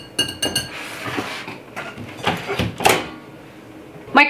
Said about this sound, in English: And just mix this all together.